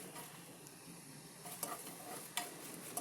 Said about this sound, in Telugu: ఎండుమిర్చి వేసి వాటిని వేయించాలి. లో ఫ్లేమ్లో ఉండాలండి మంట